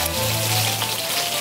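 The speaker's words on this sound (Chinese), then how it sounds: "把另外一面也稍微煎一下" Chicken thighs pan-frying after being flipped, their second side browning, give off a steady, close sizzle and crackle that fills the short moment with no voices.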